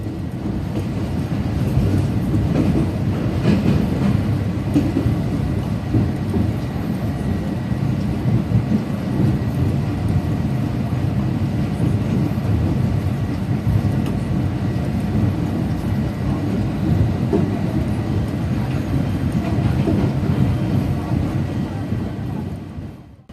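The Shah Hussain Express passenger train runs on rails, a steady, loud rumble with a low roar that continues evenly for over twenty seconds.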